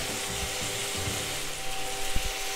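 Chopped tomato and green chili drop into a pan of softened onions, setting off a steady hot sizzle with a few soft scraping knocks, close and constant for a few seconds without any talking.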